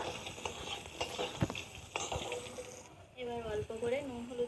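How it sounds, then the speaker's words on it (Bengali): Dried red chillies, onion and green chillies frying in a pan and being stirred, with soft sizzling and scraping strokes, and a voice talking over the later part. "এবার এগুলোকে সোনালি রং হওয়া পর্যন্ত ভালোভাবে ভেজে নেওয়া হলো।"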